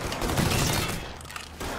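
Gunfire in the crime shooter Mafia 3 Definitive Edition comes as a short, loud, noisy burst of blasts mixed with crashing game sounds, heard close for under two seconds.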